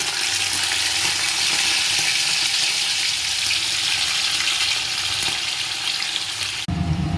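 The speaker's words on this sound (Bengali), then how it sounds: "এখানে হচ্ছে মাছ ভেজে নিচ্ছি" Fish frying in a pan for a home dinner, a steady, close, loud hiss and crackle of hot oil that runs without a break and cuts out sharply near the end, with no talking.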